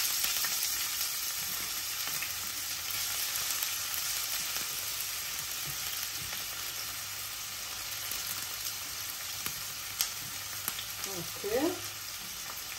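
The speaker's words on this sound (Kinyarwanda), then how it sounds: "Hakurikiyeho rero gukaranga ibitunguru na pavuro." Onions and leeks fry in a pan with a constant close sizzle, some stirring clatter and a few louder clinks near the end, with no talking.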